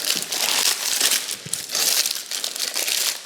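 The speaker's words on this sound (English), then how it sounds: "I just have a piece of parchment paper here." Parchment paper crumpled by hand to line a baking dish, a close, loud crinkling and rustling in uneven bursts that lasts throughout.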